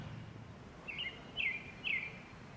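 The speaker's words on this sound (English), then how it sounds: "There's this bird in that tree." A bird gives three short chirps, spaced about half a second apart, faint and somewhat distant over a low outdoor rumble.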